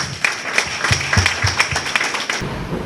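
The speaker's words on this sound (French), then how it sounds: "Maintenant, un peu d'applaudissements pour Monseigneur." A gathering at a January conference claps for the Monseigneur, scattered distinct claps over a sustained tone with some low thumps, ending abruptly before a quieter tail.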